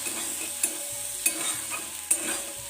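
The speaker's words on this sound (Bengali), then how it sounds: "তেজপাতা ভালো করে ভেজে নেবো" Spices, split pea lentils and bay leaves fry in a pan, giving a steady close sizzle broken by three sharp stirring scrapes of a spatula, with no talking.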